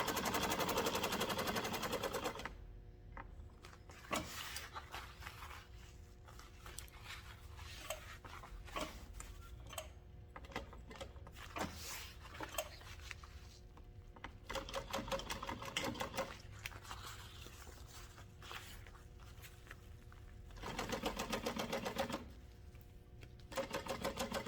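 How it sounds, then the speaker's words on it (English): A sewing machine stitches around a tote bag at about half an inch, running in long steady buzzing bursts separated by short pauses, close and clear. "then I will sew all the way around at about 1/2 inch"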